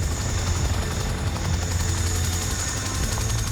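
A 12-ton Chinook twin-rotor helicopter fitted with skis for deep snow in Alaska drones loudly and continuously with a deep rotor throb and a steady turbine whine.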